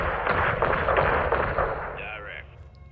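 A heavy explosion booms in Call of Duty: Modern Warfare 2, blowing a roof apart: a loud, sustained blast with rumbling debris that fades over a few seconds, joined by a short voice near the end.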